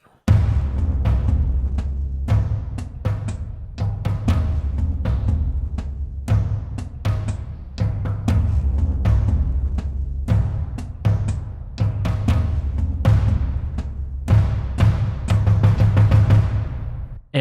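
Drum part built with the Drum Fury Motion sample library: driving cinematic percussion with sharp, dense hits and a heavy low pulse, loud and unbroken for the whole stretch, with no voices.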